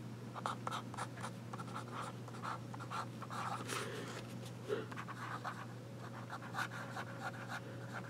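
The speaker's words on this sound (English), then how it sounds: "You might hear the nib on paper, but the nib is not scratchy whatsoever." A Platinum 3776 fountain pen nib writing on paper: soft, close scratching strokes in quick irregular bursts over a steady low hum, faint but continuous.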